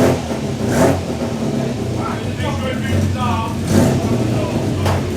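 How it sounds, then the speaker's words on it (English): A classic car with a BMC A-Series engine revs at a wet Oulton Park track day, its engine note rising and falling in several bursts over steady background noise and murmured talk. "That is one fantastic sounding A series."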